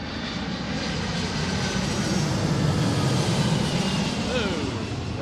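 Jet airliner engines roar on arrival at Seattle airport's runway 34L, a loud steady broadband rumble and whine close by that swells slightly, with a voice speaking under it.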